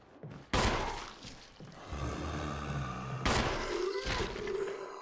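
Two sharp, loud bursts of gunfire ring out in Resident Evil 1 Remake, one near the start and another about three seconds later, each trailing into a rumbling echo with a low mechanical drone between them.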